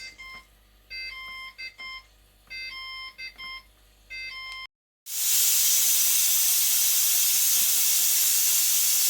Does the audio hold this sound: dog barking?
no